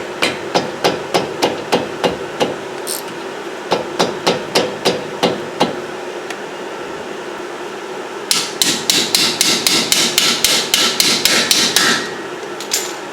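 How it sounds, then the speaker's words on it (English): A hammer taps a 19 mm wrench onto a brake caliper slide pin on a 2013–2017 Toyota RAV4. Sharp metallic strikes come in a steady run, pause, then resume in a faster, louder burst, close up with no talking. "Just tap a 19 millimeter wrench onto the caliper pin."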